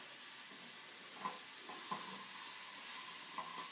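Soft stirring of apples with cinnamon in a bowl, with a few light scrapes and clinks over a quiet hiss, close by and gentle, without talk.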